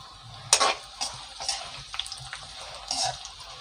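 Onions frying in a pan for a village-style chicken curry, with a steady sizzle and several sharp stirring scrapes spaced through the moment, close and moderately loud with no talking.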